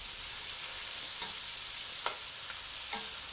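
Meat shrinking as it fries in a pan, giving a steady, bright sizzle throughout with a few light scrapes or pops over it; no talking.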